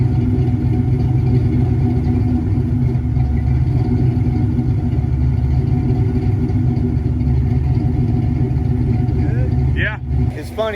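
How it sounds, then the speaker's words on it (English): Calypso clone car engine idling down, a steady, close, continuous rumble that runs throughout with a brief shift near the end. "I'm gonna idle it down."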